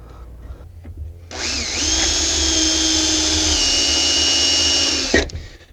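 A power drill whines steadily for about four seconds, winding up sharply, holding a high-pitched hum while pre-drilling plexiglass for an entry step light on an Entegra RV, then stopping, with no speech.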